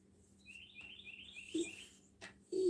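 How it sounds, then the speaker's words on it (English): Small birds chirp outdoors in a quick repeating series of high tweets, faint and somewhat distant, with a couple of louder short sounds breaking in near the end. "Oh, you hear the birds?"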